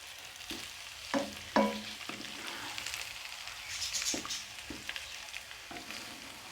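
A spatula stirs a potato, carrot and egg curry in a frying pan, giving soft scraping strokes and a few sharper clinks over a low, steady sizzle, fairly quiet and with no voices.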